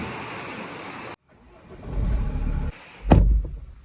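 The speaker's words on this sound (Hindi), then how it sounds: "गाड़ी स्टार्ट कर ली है" A car engine starting and running in the rain, a low rumble swelling after a brief silence, then a sharp loud burst as it catches and settles into a close idle, no talk.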